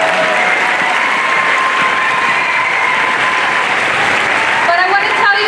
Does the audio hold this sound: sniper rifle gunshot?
no